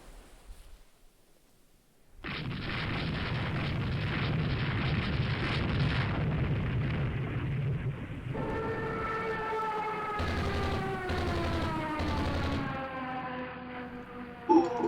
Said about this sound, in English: Hit it with a bomb